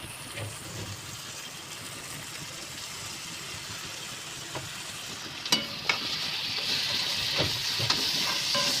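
Tomatoes dropped into onion frying in oil, a steady close sizzle that swells louder after a few sharp clatters and splashes partway through, with no voices.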